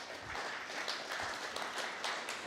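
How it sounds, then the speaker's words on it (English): A live audience gives a round of applause for the sound crew, a soft, fairly distant patter of many hands clapping with scattered louder claps, steady throughout. "So let's give everybody a round of applause."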